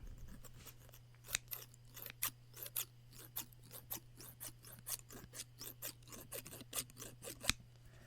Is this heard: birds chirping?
no